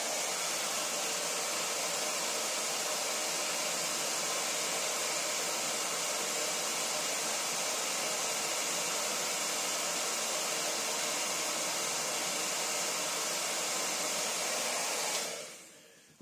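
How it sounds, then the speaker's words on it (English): A hot air blower heats a golf grip, a loud, steady, close rushing whoosh that holds unchanged for about fifteen seconds and then cuts off and fades. "I'm just going to heat the whole thing just by letting the hot air go down through it"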